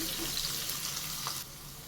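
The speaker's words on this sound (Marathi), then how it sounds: "लसूण आपल्याला थोडं छान असं ब्राऊन करून घ्यायचं आहे" Garlic frying in oil until brown for a tomato chutney, heard as a steady, moderately quiet sizzle that drops slightly in level near the end.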